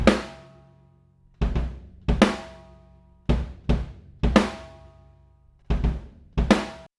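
A drum kit heard through overhead microphones: sharp hits with long ringing cymbal and shell decay, struck in loose groups of one or two about a second apart, loud and alone.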